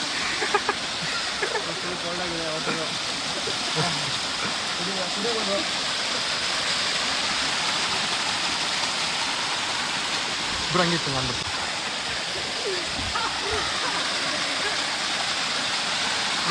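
Water from the Bhadra river rushes past in a steady, loud, close roar, with people talking intermittently over it.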